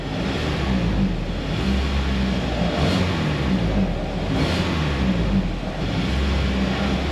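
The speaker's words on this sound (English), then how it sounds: "It's not supposed to be doing any of these misfires." A 2.4-litre car engine runs rough with misfires in a repair shop, giving a steady, loud, close rumble with uneven pulsing throughout.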